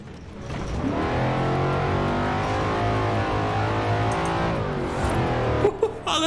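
Car engine in Forza Horizon 4's Hot Wheels expansion, on a small car fitted with 25-inch wheels, running steadily with a low drone and layered harmonics, then briefly revving near the end.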